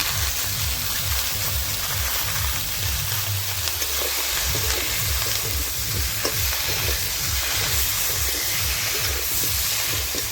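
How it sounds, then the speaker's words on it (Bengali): A paste of ground green chilli, ginger and cumin with turmeric fries loudly in hot oil, a steady close sizzle and crackle running unbroken with rhythmic stirring scrapes underneath and no voices. "মশলা, কাঁচা লঙ্কা বাটা, আদা বাটা, জিরে বাটা একসঙ্গে ভেজে নিব"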